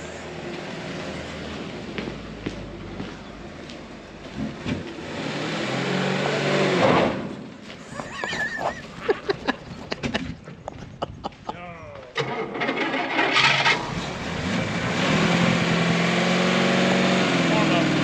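A FUMMINS engine sitting four months cranks with stuttering bursts, then catches and settles into a loud, steady running rumble close by as people talk over it.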